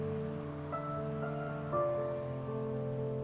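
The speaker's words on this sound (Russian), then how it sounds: "И вот, на заставочке тоже дождь." Steady rain hiss on the title screen of the video game Heavy Rain, soft and even under sustained musical tones, with no talking.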